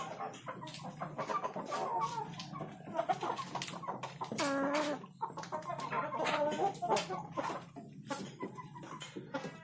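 Chickens in a coop cluck and squawk while pecking at feed, busy overlapping calls from several birds close by, with one louder drawn-out squawk midway.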